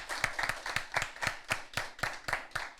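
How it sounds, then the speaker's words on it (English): An audience at an inter-secondary school debate semi-final applauding the best debater, with a few distinct hand claps ringing out in an even, steady rhythm over a soft background patter, moderately quiet. "So let's give her another round of applause"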